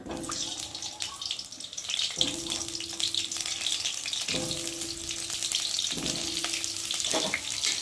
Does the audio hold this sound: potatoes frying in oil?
yes